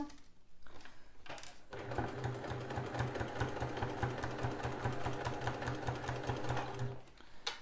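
A sewing machine stitches along a piping seam near a zip corner of a fabric pouch, one continuous run of rapid, even needle strokes after a short start, close and fairly quiet, stopping near the end.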